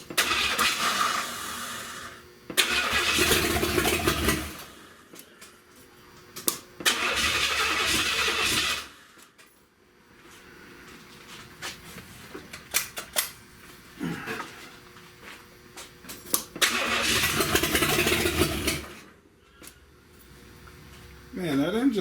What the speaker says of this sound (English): Man, that engine sounds good to me.